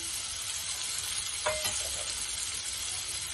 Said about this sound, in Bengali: পেঁয়াজ কুচিটা ভালো করে নাড়াচাড়া করে নেব